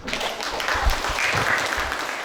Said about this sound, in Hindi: थोड़ा ठोकते रहो ताली